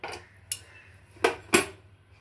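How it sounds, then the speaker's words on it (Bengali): Metal vessel and spoon clatter as roasted mung dal is poured into water and washed in a kitchen, with a few sharp clinks spaced irregularly, close and fairly quiet, no talking. "জলের মধ্যে ঢেলে দেবো, দিয়ে এটা ভালো করে আমি ধুয়ে নেব"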